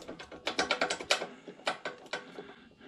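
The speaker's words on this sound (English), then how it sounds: "What the heck is rattling?" A ZJ 4110 drill press in a workshop gives off a quick run of close, dry mechanical rattles and clicks in rapid bursts, with no talk over it.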